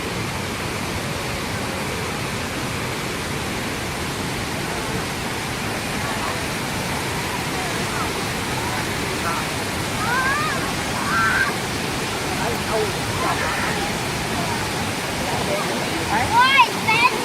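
Wachirathan waterfall at Doi Inthanon in Chiang Mai roars in a steady, dense rush of falling water from the mountain, loud and unbroken throughout, with a few faint bird calls near the end.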